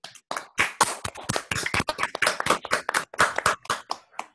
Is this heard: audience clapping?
yes